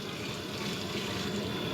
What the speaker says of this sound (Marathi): टाकतोय पाणी